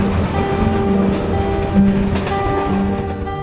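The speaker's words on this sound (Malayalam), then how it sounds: "ഇരുമ്പ് പാലങ്ങൾക്ക് മുകളിലൂടെ പോകുമ്പോൾ ഒരു പ്രത്യേക ശബ്ദമാണ് ട്രെയിനിന്റെ താളത്തിന്." A Konkan Railway train rolling over an iron bridge, a steady rumbling clatter of wheels with rhythmic clickety-clack, close and loud throughout.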